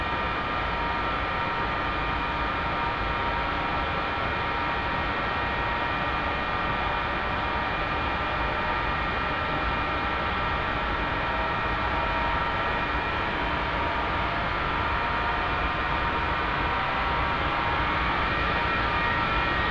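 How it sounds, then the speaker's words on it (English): An F-4 Phantom's jet engine spools up during a cold start in the DCS flight simulator, a steady rising whine over a broad roar, continuous and unbroken. "Engine's coming online."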